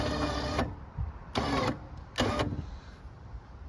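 A Warn winch lifting and lowering a snow plow on a 2023 Yamaha Kodiak 450 ATV whines in three short electric bursts, the first longest, with quiet pauses between them and no talk.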